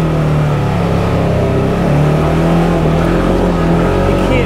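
A 2022 Polaris General XP 1000 Trailhead Edition side-by-side drives a wet, muddy trail, its engine droning loudly and steadily with slight shifts in pitch as it pushes on, close to the listener.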